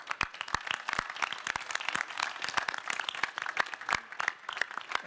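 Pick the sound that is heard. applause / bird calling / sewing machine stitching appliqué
applause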